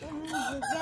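A rooster crows close by in one loud, drawn-out call with rising and falling pitch, clear and alone.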